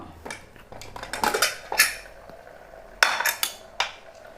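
A metal pressure cooker of cooked taro is opened, with a handful of sharp metallic clanks and scrapes from the lid and pot, close and fairly quiet, with no voices.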